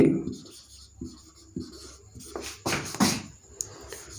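Chalk or marker scratching and tapping on a board during a Hindi-language class 12 electrostatics physics lesson, in short irregular strokes of moderate loudness, mixed with a teacher's speech.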